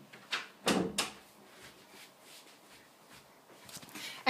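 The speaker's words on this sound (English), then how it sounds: "I had to shut my door, I didn't want to bother them." A bedroom door is pushed shut with a soft thud and latch click, followed by quiet room tone and another faint knock at the end, fairly low in level.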